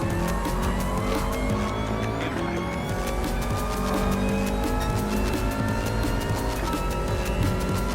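A Subaru WRX race car in Gran Turismo Sport roars continuously under braking, a steady loud engine drone with a faint tire squeal, with no talk.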